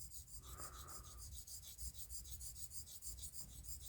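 A straight razor, a Thiers Issard Evide Sonnant Extra, is honed on a Belgian Coticule stone, giving soft, rhythmic rasping strokes up close at a faint level with no talk.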